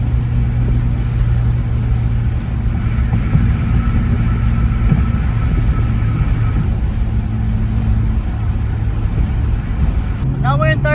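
A turbocharged Toyota Celica GT-Four accelerating in third gear from about 4,000 RPM, a loud steady engine drone with a rising whine toward the end, heard from inside the car.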